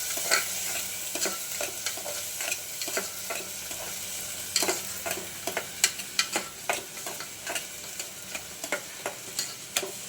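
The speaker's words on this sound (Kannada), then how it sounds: "ಇವಾಗ ನೋಡಿ ರೈಸ್ ಹಾಕಿದ್ದೀನಿ. ಅದು ಹಾಕಿದ ನಂತರ ನಾವು ಸ್ವಲ್ಪ ಫ್ರೈ ಮಾಡ್ಕೊಳ್ಳೋಣ" Rice stirred and frying slowly on low heat in a pan for kheer: a steady broadband sizzle runs throughout, punctuated by repeated sharp scraping clicks from the stirring, close and fairly even, with no talking.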